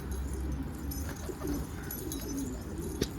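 Turtle dove cooing in a garden, soft low repeated coos carried over steady outdoor background noise, with a few faint chirps overhead and no talking.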